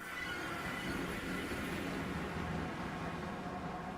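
A train rolls along rails in a video game, a steady, dense rumble with a faint metallic hiss that holds evenly throughout, with no talk over it.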